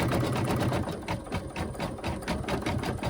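Embroidery machine stitching an Easter table runner, a fast steady mechanical chatter of needle strokes running continuously and close.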